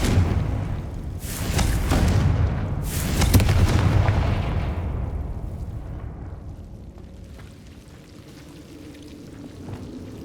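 A Confringo fire spell from the Hogwarts Legacy video game bursts in two loud booming blasts early on, each trailing into a rumbling, crackling decay that fades into quieter ambient game sound.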